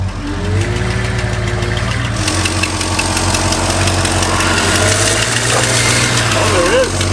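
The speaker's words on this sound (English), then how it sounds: "How come when I turn the wheel, the engine speeds up?" A 1960s Ford Galaxie V8 idles close by with a steady low rumble and faint knocking, its revs rising as the power steering is turned, while people talk nearby.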